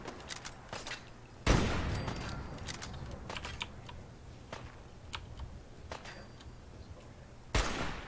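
Two loud gunshots fired at a turret in Fallout 4, one near the start and one near the end, with lighter clicks and ticks scattered between them and no talking.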